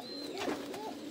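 A single pigeon gives one short, swelling coo close by, clear against a quiet background.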